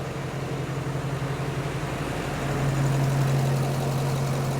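A Duramax diesel engine idles steadily up close with a low, even hum, and partway through an electric cooling fan kicks in, adding a louder sustained drone on top.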